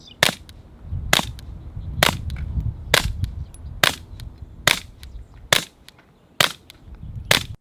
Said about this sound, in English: Rimfire silencers are the silencers that you can really notice the suppression between unsuppressed and suppressed